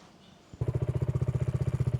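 A BSA Goldstar 650 single-cylinder motorcycle fires up after a brief quiet moment. It settles into a loud, rapid, even thump close by, like an engine idling or pulling away at the start of a ride.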